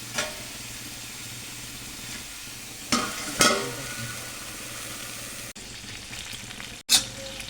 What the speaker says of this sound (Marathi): गॅसची फ्लेम पूर्ण कमी करून येते याच्यावरती शिजवून घेणार आहे सगळं